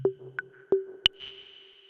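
A Xaoc Oradea resonator module rings out as four excited channels are struck in turn, each a sharp ping at a different pitch decaying into a sustained resonant tone, alone and fairly quiet.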